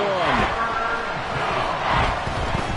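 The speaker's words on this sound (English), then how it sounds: "A big play here as the crowd noise rises" Crowd noise swells in a Madden football video game during a big play on third and one, a dense stadium roar filling the whole stretch with a brief rising cheer-like tone at the start.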